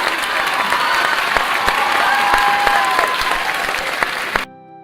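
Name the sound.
applause in a video game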